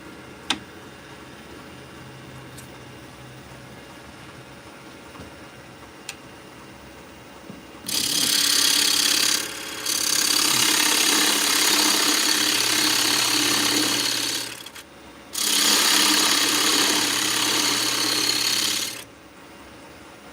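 A 1/2-inch bowl gouge cuts wood on a lathe: after a quiet stretch of faint hum, two long, loud bursts of harsh, steady cutting noise, briefly broken by a short pause.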